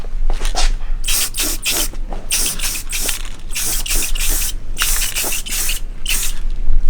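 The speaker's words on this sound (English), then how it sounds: "Now I just spray the bottom side of the lip," A rattle can sprays paint onto the lip of SSR Type F wheels in a series of short hissing bursts, close and loud, with brief gaps between each spray.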